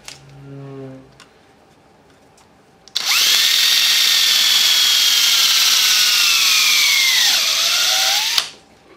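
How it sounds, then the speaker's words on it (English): A power drill on fast speed whirs loudly and steadily for several seconds as it bores into a wooden knife handle, its pitch sagging near the end before cutting off abruptly. "drill a hole, set it on it fast speed"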